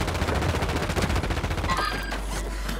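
Rapid automatic gunfire from the shooter game Modern Warfare 3 Warzone Resurgence, with an SOA Subverter rifle, rattles in a fast close burst that fills the scene before trailing off.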